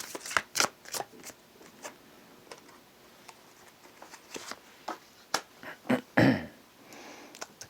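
Tarot cards shuffled by hand at close range, a quiet run of sharp riffling snaps and soft slaps in irregular bursts, with a denser flurry near the end and no voices.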